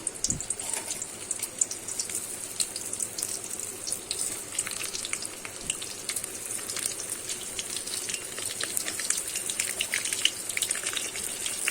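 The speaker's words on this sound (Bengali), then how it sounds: "আমি পটলগুলো কিন্তু লাল লাল করে ভেজে নেব।" Pointed gourds (potol) dropped into hot oil and frying, a steady bright crackling sizzle with scattered pops throughout, fairly quiet and with no voices.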